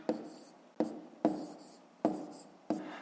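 Pen strokes writing numbers by hand on paper for a fifth-grade math exercise, a close series of five short scratchy strokes in a steady rhythm, each starting sharply and trailing off, with no voice.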